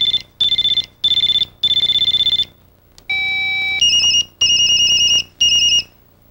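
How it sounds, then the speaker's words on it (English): A 1990s Motorola StarTac cell phone plays a series of ringer tones one after another: shrill, electronic beeping bursts that switch between several patterns, loud and close with short gaps in between. "Pressing either volume key lets you scroll through the different ringer styles."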